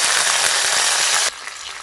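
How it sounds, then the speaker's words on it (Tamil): Curry leaves sizzling in hot sesame oil while tempering for a roasted-ground fish curry, a loud, dense, close hiss and crackle that drops suddenly to a quieter simmering fizz. "இல்லாட்டி தாளிக்கையில் கருவேப்பிலை போட்டுக்கலாம்."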